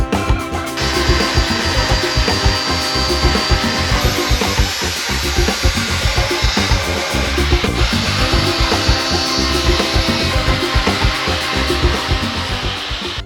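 A power saw cuts off a metal bracket during a Jeep long-arm suspension install, a loud, continuous grinding whine with a gritty rasp that holds steady for over ten seconds with no talk.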